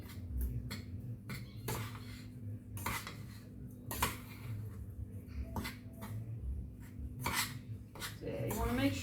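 Cheesecake cookie-crumb base stirred in a bowl, probably with a fork: a string of sharp metallic clinks and scrapes against the bowl at irregular intervals, close and clear against a quiet background.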